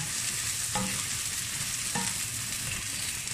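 Garlic frying in a pan over medium heat until golden, a dense, constant loud sizzle with two brief spatula knocks against the pan, close by and with no voices.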